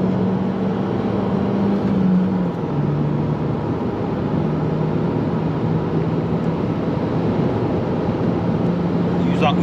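An Opel Insignia 1.6 Turbo with 180 hp drives on a highway while accelerating to 160 km/h, giving a steady, loud engine drone with a low tone that rises slowly under constant road and wind roar.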